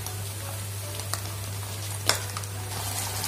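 Onion and capsicum fry with tomato ketchup in a pan, making a steady soft sizzle over a low hum, with a sharp utensil clink partway through.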